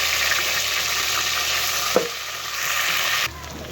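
Ginger garlic paste fries in oil with browned onions, giving a steady close sizzle with a short stirring clink midway; the frying quietens slightly near the end.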